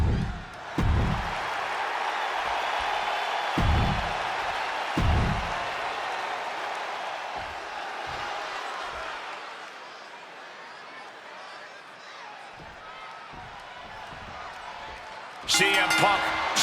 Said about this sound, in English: just listen to this crowd here in Chicago